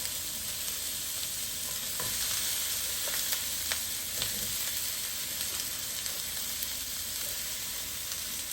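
Onions frying undisturbed in a pan for a healthy chicken dinner side, a steady close sizzle and crackle running throughout with faint stirring ticks and no talk.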